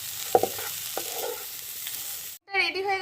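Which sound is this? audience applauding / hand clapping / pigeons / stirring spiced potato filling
stirring spiced potato filling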